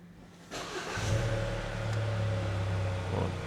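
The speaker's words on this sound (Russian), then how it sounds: "давайте заведем автомобиль" A Haval H6 GT coupe-crossover engine turns over and catches about half a second in, then settles into a steady, fairly loud idle hum heard close up.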